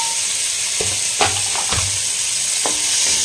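Tomatoes for a restaurant-style butter paneer gravy drop into hot salted butter and fry with a steady, close sizzle, broken by a few sharp spoon-stirring clicks and scrapes.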